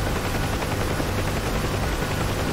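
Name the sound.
Huey helicopter in the DCS flight simulator video game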